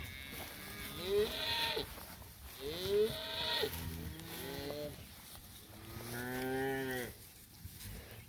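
A herd of cattle moos repeatedly on a farm, several long, drawn-out calls from different animals spaced a few seconds apart, fairly close and clear over quiet background, with no talking.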